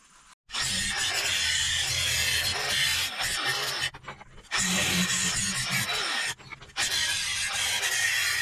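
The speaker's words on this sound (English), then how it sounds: "I'm gonna clean up all the slag and stuff and get it ready for drilling" Slag being cleaned off a freshly cut steel plate, harsh scraping and grinding bursts in several long passes separated by brief pauses, close and loud, with no talking.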